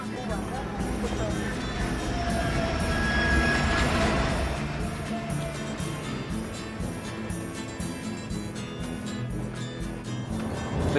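A Trans-Siberian Railway train rolls along the tracks, a continuous rumbling clatter with faint metallic squeals, heard from on board with people talking over it.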